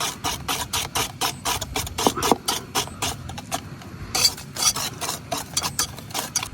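A whisk or spoon beats a batter of egg, sugar and soybean oil in a bowl, for a palm cake, with quick rhythmic scraping strokes, close and steady, and no voices.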